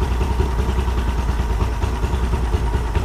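A Mercury 50 hp outboard boat motor runs steadily nearby with a rough, clattering idle, its low throb continuous for the whole stretch.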